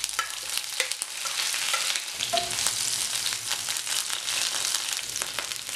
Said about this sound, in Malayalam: എണ്ണ ഒന്ന് ചൂടായി വരുമ്പോൾ അതിലേക്ക് അര ടീസ്പൂൺ കടുക് ഇട്ട് കൊടുക്കുക